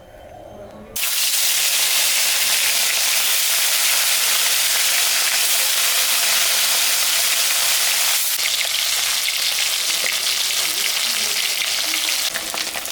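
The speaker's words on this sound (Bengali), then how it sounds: "আমি কড়াই বসা দিয়েছি, সর্ষের তেল দেব মাছটা ভাজার জন্য। মাছটা ভাজবো।" Rohu fish fries in mustard oil in a kadai, starting with a sudden loud sizzle that settles into a continuous, dense crackling hiss, close and steady throughout.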